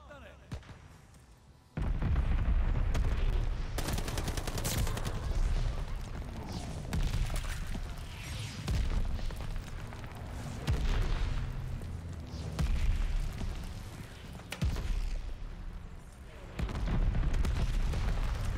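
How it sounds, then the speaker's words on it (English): A mortar barrage and bombing run in a multiplayer war video game bring repeated heavy booms and blasts in irregular bursts, loud and rumbling, with players talking over the explosions. "Allies calling a mortar barrage."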